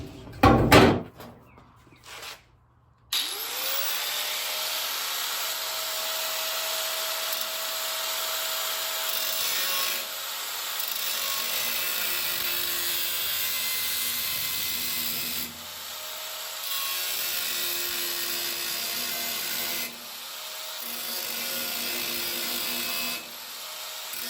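A power tool cuts out a metal patch for auto body rust repair, a steady loud whine that runs on and off in long stretches after a few opening knocks, close and with no talk.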